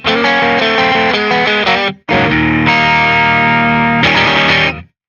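Distorted electric guitar in a blues turnaround, quick notes that climb down, a brief break, then ringing chords ending on the root chord, loud and close with no talk.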